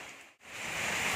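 Heavy rain falls hard and steady as a loud, broad hiss, cutting out for an instant before surging back, with no voices.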